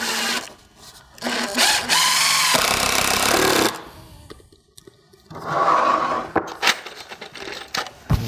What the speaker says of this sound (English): we're gonna go ahead and screw this corner about every 2 foot or so